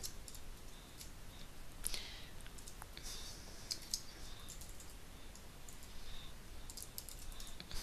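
Keys clicking faintly and irregularly on a computer keyboard while MEL code for Maya is typed, scattered light taps over a quiet background hiss with no talking.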